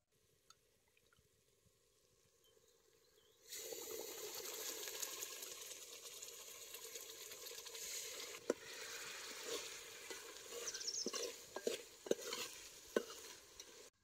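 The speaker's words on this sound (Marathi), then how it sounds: "आता ह्यो सौदा बी या तेलात चांगला रटरट शिजवून घ्यायचा." Masala for a country chicken curry sizzling and bubbling in oil in a pot on a wood-fired stove: a steady, fairly loud hiss that starts abruptly after a few quiet seconds, with scattered pops and spits and no talking.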